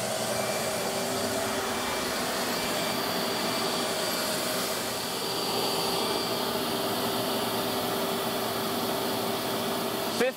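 A MetroVac vacuum cleaner runs steadily through a suction test, a loud, constant motor whine with airy rush that holds without a break and cuts off abruptly at the end.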